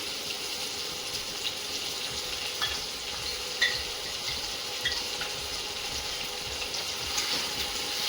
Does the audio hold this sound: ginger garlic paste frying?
yes